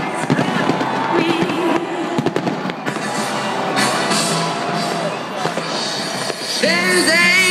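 Fireworks over the London Eye at New Year 2012, a dense run of bangs and crackles with whistling rockets, heard under a loud pop song.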